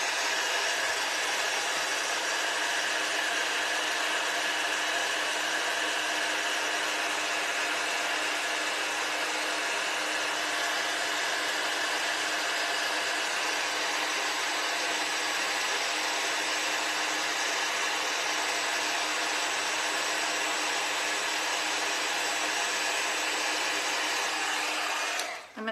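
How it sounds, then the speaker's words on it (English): A heat gun melts gold embossing powder on a handmade Easter card, giving a steady, close, loud blowing roar that runs almost without change for the whole stretch and cuts off abruptly at the end, with no talking. "We'll get this heat embossed."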